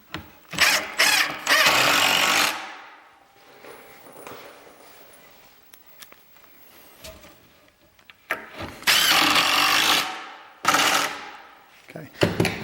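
Power driver sinks a 1 1/4 inch screw into a step-back cabinet, heard as two loud whirring bursts separated by a quieter stretch of low shop noise, close up and with no talk.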